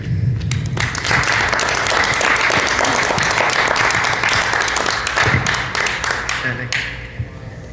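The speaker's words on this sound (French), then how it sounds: "je vous demanderai de l'applaudir chaleureusement" Warm applause from an audience greeting a speaker at a meditation talk, dense and steady clapping with some crowd murmur, gradually thinning toward the end.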